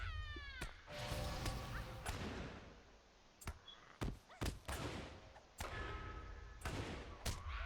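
A cat enemy in the video game Lord of the Rings Online yowls and meows repeatedly, the drawn-out cries broken by sharp combat hits and impacts, fairly faint overall.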